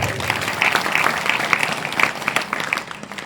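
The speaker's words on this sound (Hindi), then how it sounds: "एक बार उनकी माता जी के लिए जोरदार ताली बजाई।" A small audience claps at a spiritual gathering, with brisk, somewhat uneven hand claps at moderate loudness that taper slightly toward the end.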